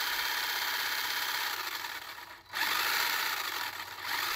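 A 3D printed RC car's electric motor and gears running: a continuous high-pitched whine and buzz, briefly dipping midway before spinning back up, close by and without talk.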